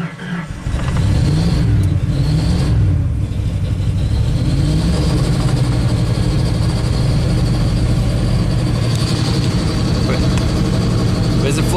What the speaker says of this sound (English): You rev it up and then it stalls out.